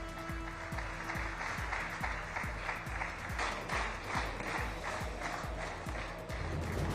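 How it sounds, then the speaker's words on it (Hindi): Sustained applause fills the Israeli parliament (Knesset) chamber, a dense continuous wash of many hands clapping with rhythmic low thumps running underneath throughout. "तालियों की गड़गड़ाहट से गूंजी इजरायली संसद"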